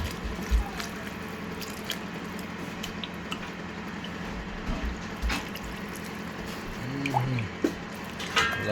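Cold water poured into cornstarch for a beef and broccoli sauce, soft trickling and dripping with small splashes over kitchen background noise, fairly quiet and close.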